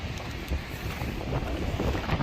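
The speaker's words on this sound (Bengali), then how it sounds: "বৃষ্টি বাতাস, ভাই বাতাসটা কররা কিন্তু" Strong wind roars steadily across the microphone in a stormy outdoor spell of wind and rain, a loud, rumbling buffeting that gusts slightly stronger toward the end, with no voices.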